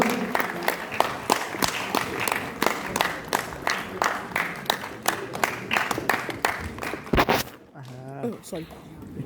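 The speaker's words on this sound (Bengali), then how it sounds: "এবার তো অনেক লোক হয়েছে, একটু হাততালি হোক।" A theatre audience at a Bengali stage performance claps in a sustained burst of applause, fairly close, fading out near the end as a voice speaks briefly.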